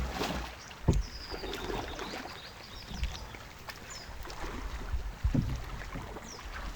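A small bangka boat moves across water, with soft splashes and knocks against the hull, a few sharper thumps, and wind in the background.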